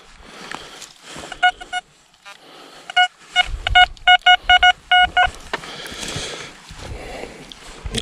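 Metal detector signal tones sounding outdoors in a series of short sharp beeps in quick bursts, interspersed with rustling and digging noises while sweeping the ground.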